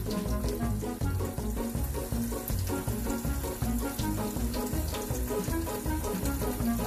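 Running tap water streams steadily into a kitchen sink while a pet bird plays in the flow, a continuous close, fairly loud splashing wash with no talking.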